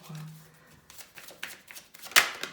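Tarot cards are shuffled by hand during a reading, giving a brief soft riffle and flutter of card stock with a sharper snap near the end, close and fairly quiet.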